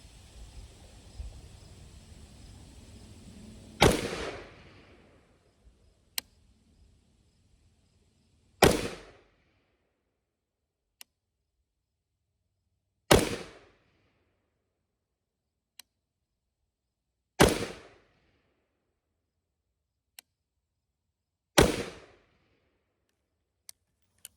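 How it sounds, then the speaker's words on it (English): Five sharp, loud gunshots from a BRN-4 rifle fitted with a Geisley Super 3 trigger ring out singly, spaced several seconds apart, each with a short decaying tail, with faint clicks between them. "We are running the Geisley Super 3 gun, so hopefully it won't bump fire on me"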